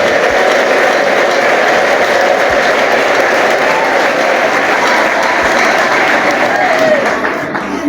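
Church congregation at a Mother's Day service applauding, a dense, loud, continuous roar of clapping that holds steady before fading slightly at the end.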